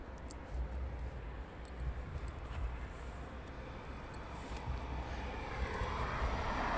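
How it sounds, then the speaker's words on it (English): An Airbus A400M military transport aircraft's engines run at RAF Brize Norton, a distant broad roar that holds steady and slowly swells louder over several seconds. "I'm sure I can hear an A400 running."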